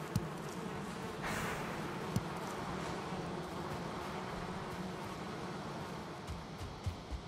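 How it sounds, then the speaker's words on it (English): Bees buzzing around hives in the video game Valheim, a steady droning hum with occasional soft clicks, moderately quiet and continuous. "Bees are happy."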